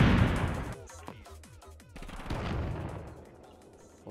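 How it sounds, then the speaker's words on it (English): Bursts of gunfire from Totally Accurate Battlegrounds, a loud opening blast followed by a rapid string of sharp shots and echoing booms, with a second heavy volley near the end. "I think they're shooting us."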